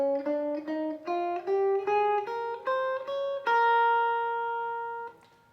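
A guitar plays a hybrid pentatonic scale on the top three strings: single clean notes climb step by step in an even rhythm, then end on a long sustained note that fades out, played alone.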